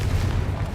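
Confringo fire spell blasts in Hogwarts Legacy, a short, dense low rumbling burst of magical explosions, loud and continuous across the brief moment with no voices.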